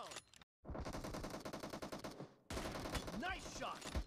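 Rapid automatic gunfire in the PUBG video game, dense bursts of shots fired close and loud, broken by a short silence, with game sound effects near the end.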